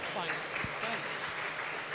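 A crowd at an F1 in Schools national final cheers and applauds for a team in a steady, loud, dense wash of clapping and voices, with an announcer briefly heard over it.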